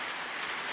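Rain falling outdoors, a continuous bright hiss of drops on surfaces, steady and fairly close, with no voices.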